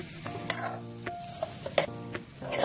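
Pork sizzles loudly in a pan over a fire, cooked without oil, while a utensil stirs and scrapes it with a few sharp clinks.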